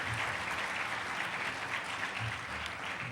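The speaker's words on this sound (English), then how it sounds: "Give him an applause." Audience applauding a conference keynote speaker, a steady, dense wash of many hands clapping that holds evenly throughout.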